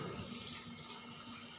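Steady splashing pour of water running into a pot of aloo gobi masala seasoned with salt, chili and turmeric, a continuous close wash of liquid with no talking.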